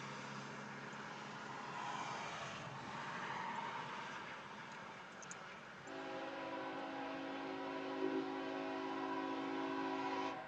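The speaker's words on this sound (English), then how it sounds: "That might be a grain train coming through." A grain train of covered hopper cars rolls past with a steady broadband rumble. Partway through, a sustained multi-tone horn sounds and holds to the end at moderate distance.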